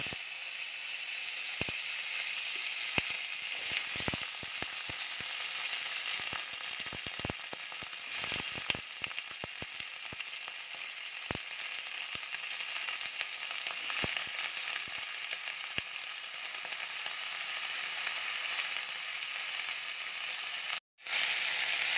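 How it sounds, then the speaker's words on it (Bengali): Ridge gourd, potato and tomato frying in a little hot oil in a wok, a steady close sizzle with scattered crackles and stirring clicks throughout, one brief dropout near the end. "সবজিটা বেশি ভাজবো না, অল্প ভেজে মশলা দিয়ে কষিয়ে দেবো।"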